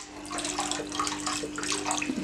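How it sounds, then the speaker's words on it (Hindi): Water pours steadily into a large bowl in a home kitchen while cooking chicken, a continuous close rushing splash with no speech. "एक बड़े बॉल में पानी डालें"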